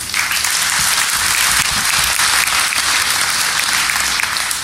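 Audience applause in a packed hall at the Defcon 21 security conference, many hands clapping loudly and continuously from start to finish.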